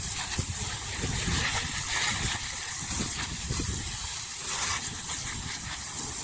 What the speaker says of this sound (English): Use your high pressure nozzle on the hose.